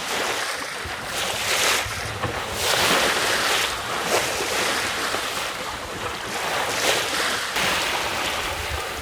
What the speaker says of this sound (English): There's a good wind.